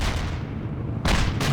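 Artillery barrage in the World in Conflict game, a steady rumbling wash of distant firing followed by two sharp, loud blasts near the end.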